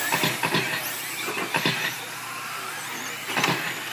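Radio-controlled late model and street truck cars race around a track, their electric motors whining in a few quick passes that rise and fade over a constant background hiss.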